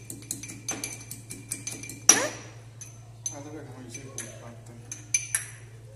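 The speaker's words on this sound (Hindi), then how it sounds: "अदरक कूट रहे हैं ना?" Ginger being pounded for tea in a home kitchen, giving a series of sharp metallic clinks and knocks at an irregular beat, with one louder strike, over a steady low hum and some talk.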